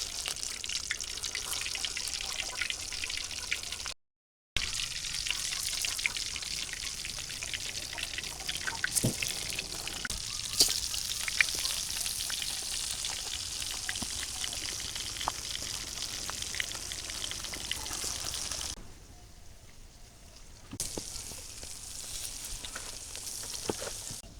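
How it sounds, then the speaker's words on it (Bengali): Eggplant frying in hot oil in a village kitchen makes a continuous crackling hiss with small pops, broken by a brief gap and later softening for a few seconds. "তেল লেগে গেছে বেগুন দিয়ে দিলাম"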